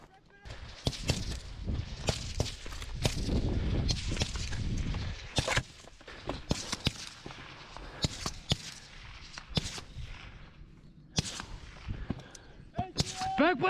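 Small arms gunfire during Marine fireteam maneuver training on a firing range, with many loud sharp shots in irregular bursts and single cracks while soldiers shout over the firing.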